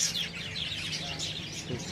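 Small birds chirp in quick, repeated high tweets over a soft, steady outdoor background.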